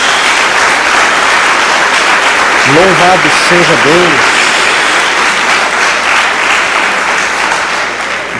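A church congregation claps in a dense, sustained wave of applause, while a voice briefly speaks over it midway.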